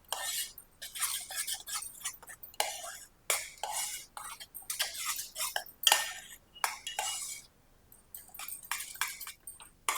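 Soaked dry fruits stirred with a metal spoon in a pan of ghee, irregular scraping and clinking strokes repeated close up, with light sizzling between them and no talking.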